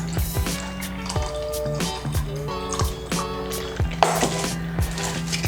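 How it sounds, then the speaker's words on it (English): Sauce being poured off from a pan while cooking a vegan holiday dish with cauliflower, heard as a close trickling and dripping of liquid over a steady background with harmonic tones. "I want to pour off some of this sauce."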